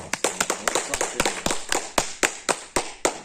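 A church congregation claps in a steady rhythmic beat, about four or five sharp claps per second. The clapping stays loud and close throughout, with a dense wash of crowd noise underneath.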